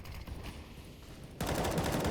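Sustained automatic gunfire sprays through a wooden wall on the Overpass map during a professional CS:GO match. It is heavy and continuous, jumping louder partway through.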